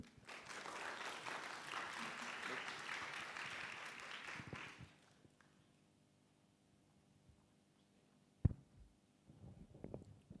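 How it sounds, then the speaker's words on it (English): A seminar hall audience at a university engineering event gives a round of applause for a department head, dense clapping for about five seconds before fading into quiet room noise with a sharp knock later. "Please give a big round of applause to Mr."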